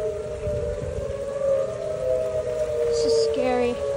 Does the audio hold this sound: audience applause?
no